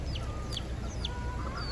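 Chickens and a rooster clucking at an outdoor pastelillo stand in Manatí, Puerto Rico, with short chirpy calls repeating over a steady low background hum, no talk.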